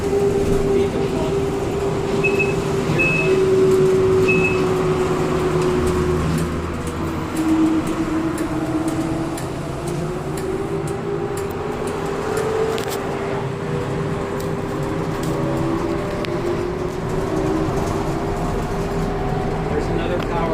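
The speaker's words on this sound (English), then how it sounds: "I'm just always curious about that sound that the trolley makes" A trolley bus passes under overhead wire and insulators, its electric motor whining in a steady rising and falling tone with a continuous low rumble and rattle of the moving vehicle from inside the bus.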